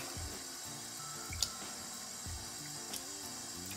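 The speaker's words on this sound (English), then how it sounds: "I've got some warm water running here" A tap runs warm water steadily, a continuous hiss of flowing water with a faint splash or two, close by and with no talking.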